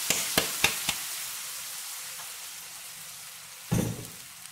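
Ground spice paste for balado dropped into hot oil in a pan, giving a few sharp crackling pops at first, then a steady low sizzle, and a louder burst of frying near the end.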